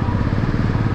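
A motorcycle passes on a Delhi road, its engine a steady, loud, close drone with a pulsing low rumble throughout the brief moment.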